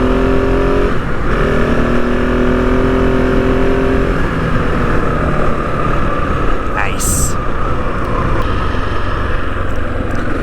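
A KTM 690 Enduro R single-cylinder motorcycle engine drones steadily while riding on a dual-sport trail ride, loud and continuous with wind noise, while the rider talks over it.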